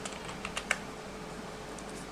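A few quick keystrokes tapped on a computer keyboard while a search is entered in a browser, light clicks clustered early and then fading into a low steady room hiss.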